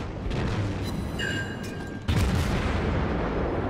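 Naval guns fire in World of Warships, with a low rumbling backdrop, a whistling shell tone, then a heavy boom about midway that leaves a louder, sustained rumble afterward.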